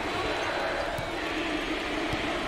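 A large crowd at a college basketball game, Penn versus Buffalo in the NIT, roars and cheers steadily as a dense, continuous wash of noise with no breaks.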